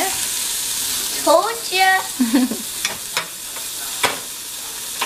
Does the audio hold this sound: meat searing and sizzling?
yes